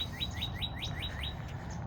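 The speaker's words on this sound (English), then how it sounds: "Listen to my bird just, good morning, good morning, good morning." A pet bird chirps outdoors in a quick run of about six bright, descending tweets, fairly close, over a steady low background hum.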